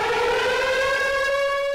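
A civil-defense air raid siren in Ukraine wails steadily and loudly, one sustained rising tone rich in harmonics, heard alone without voices.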